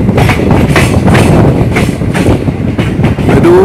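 Chandigarh Madurai Express 12688 runs steadily on rails, a loud, continuous close rumble with rhythmic wheel clatter and a brief rising wheel squeal near the end.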